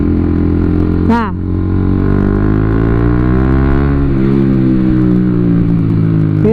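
A motorcycle fitted with a 3Tech Tridente F19 Thunderhawk full-system exhaust set to racing mode idles loud and close with a deep, throaty burble, blipped by a sharp rev early on.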